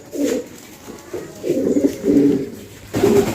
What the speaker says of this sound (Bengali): এখানে আমার কাছে কিছু চমৎকার কিছু ফ্যান্সি কবুতর আছে। এখানে হাই ফিলার কিছু গিরিবাজ আছে, জ্যাকোবিন কবুতর আছে।